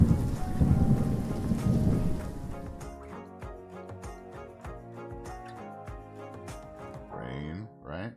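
Rain and rolling thunder in the city-building game Cities: Skylines, a loud wash of rainfall with low rumbles in the first seconds, then fading under game music and chimes.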